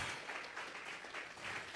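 A church congregation applauds together in dense, sustained clapping that fills the room with a steady, moderately loud patter, with no clear voices over it.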